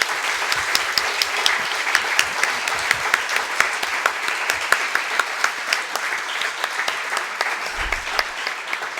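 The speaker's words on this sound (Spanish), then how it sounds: "si os parece, aplaudimos a Enrique por esta charla tan interesante" An audience at a book presentation applauds after a talk, with sustained, steady clapping from a seated crowd and a few sharper individual claps standing out.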